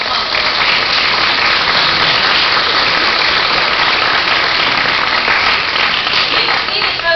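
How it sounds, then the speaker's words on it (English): Sustained audience applause at a school board meeting, a steady dense wash of clapping that holds loud and even throughout, with no voices breaking through. "let's give him a big round of applause for that accomplishment"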